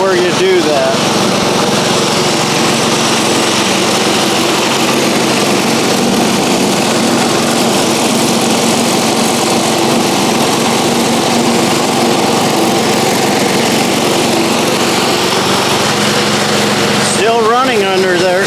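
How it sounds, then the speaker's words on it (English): A running lawn mower engine, loud and close, holds a steady droning rumble throughout with only slight changes in pitch near the end, as a person speaks over it. "I'm gonna try to raise it up while the mower's running"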